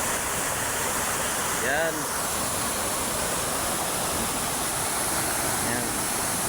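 Tinago Falls pours strong, fast water, making a loud, constant broadband roar close by. A voice speaks briefly over the rushing.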